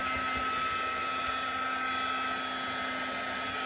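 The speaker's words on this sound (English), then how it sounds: "So I'm just getting my heat tool all warmed up here." Heat tool warming up over a craft mat, giving a steady blowing whir with a constant tonal hum, moderately loud and unbroken, with no talking.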